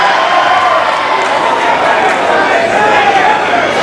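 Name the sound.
wrestling crowd cheering a signature maneuver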